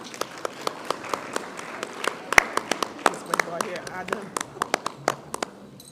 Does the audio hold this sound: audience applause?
yes